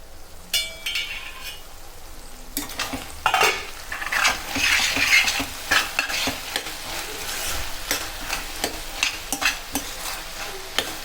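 Aloo capsicum curry, made with potato and bell pepper, cooks in a pan. A spatula stirs and scrapes with repeated metallic clinks over a soft, continuous sizzle.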